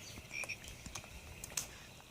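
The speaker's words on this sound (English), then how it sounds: "Do you hear the froggies?" A Fisher-Price Rainforest Mat toy plays a soft electronic frog croaking with chirpy bird-like tones, quiet and close, with no voices over it.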